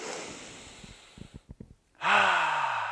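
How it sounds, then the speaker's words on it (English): A single long, deep inhale during a stretching class, a loud breathy rush that fades into a few soft pulses before a voice begins speaking. "Take a deep breath in."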